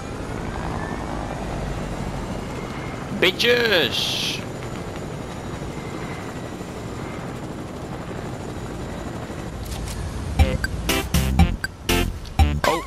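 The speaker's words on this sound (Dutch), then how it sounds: "we gaan roteren met de helikopter" A helicopter in Fortnite hums steadily throughout as a sustained rotor drone, with a sweeping whoosh early on and a cluster of sharp game sounds near the end; a player says a single word.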